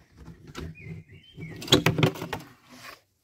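A few brief bird chirps and tweets sound close by amid scraping and rustling noises.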